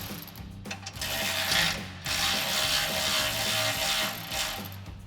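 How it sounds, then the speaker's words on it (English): A ratchet with a 13mm socket tightens exhaust bolts on a Jeep Gladiator JT, giving a continuous close-up clicking whir that pauses briefly once and then carries on. "take your 13mm socket and tighten these down"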